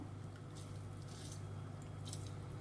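Wet grated bottle gourd is squeezed by hand to press out the water, making soft, faint squishing sounds in a few short bursts over a low steady hum.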